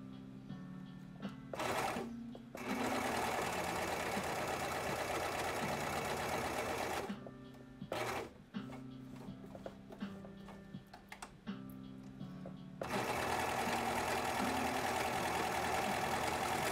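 A serger overlock sewing machine stitches a fabric edge in loud, close bursts: a long run, then short stop-and-start stretches, and another sustained run at the end.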